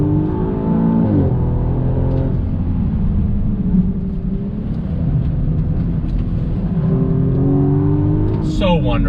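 A 2020 Audi S6 with a twin-turbo engine, all-wheel drive and aftermarket modifications accelerates hard on throttle, its engine note climbing steadily in pitch. The sound is loud and close, like cabin sound, with a brief shift near the start.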